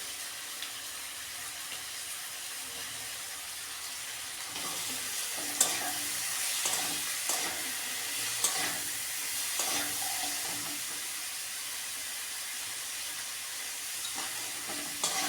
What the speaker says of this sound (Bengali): এর সঙ্গে আমি কেটে রেখেছি লঙ্কা, রসুন, এগুলোও ভেজে নিব।